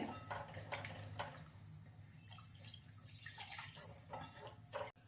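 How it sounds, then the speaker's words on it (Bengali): Water poured into a pan of tangra fish curry with spring onions over cooked spices, a faint splashing and trickling with small drips, quiet and close. "আরও একটু জল আমি অ্যাড করে দিচ্ছি এখানে"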